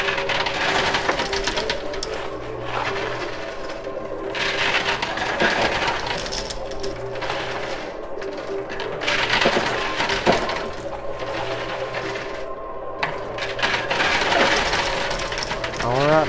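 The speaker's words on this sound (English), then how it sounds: "Let's try another push or 2 just for good measure. Try to get some of these quarters that are excessively stacked up in there." Quarters clatter and tumble continuously inside a coin pusher machine, a dense metallic jingling and clinking that runs the whole time over the machine's mechanical hum, fairly close and steady.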